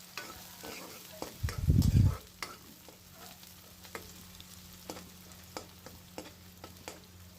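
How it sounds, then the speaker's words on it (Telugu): Onions and mint frying in a pan for village-style boti curry, with a soft, steady sizzle under repeated scraping strokes of a stirring spoon and one dull low thump early on. "ఇప్పుడైతే ఈ ఉల్లిపాయలు అయితే అన్నీ వేగిపోయినాయండి"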